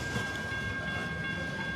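A freight train on the Paducah and Louisville Railway in western Kentucky rolls past, a steady dense rumble of cars with rail noise and a faint tonal whine, loud and continuous.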